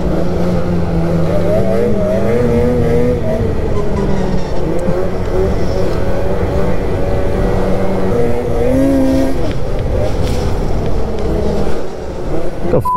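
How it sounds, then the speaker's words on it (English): Loud, close, continuous roar of a Hygear IGX vehicle with a new boost intake, carrying whining intake tones that rise and fall over a steady rumbling engine drone. "That's the sound that just came out of that boost from behind me was insane."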